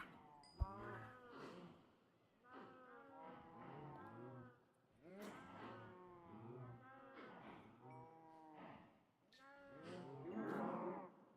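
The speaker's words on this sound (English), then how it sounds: "as you can hear it, it's loud, is the cow crusher." Minecraft cows packed into a crusher moo repeatedly as entity cramming kills them, loud overlapping bellows in quick succession over a faint thump, with the calls layering into a noisy cluster at the end.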